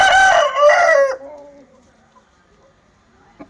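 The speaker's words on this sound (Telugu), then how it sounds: "అలాగే మరొక పుంజు అయితే ఉందండి" A rooster, offered for sale at a market, crows once loudly and close by, a strong drawn-out call that cuts off sharply and leaves quiet with a faint click near the end.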